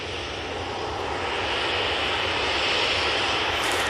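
Ryanair jet airliner at Manchester Airport, a steady loud engine roar that swells slightly toward the end, continuous and unbroken with no talk over it.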